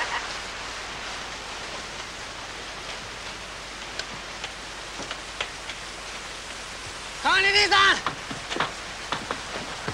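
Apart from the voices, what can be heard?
rain falling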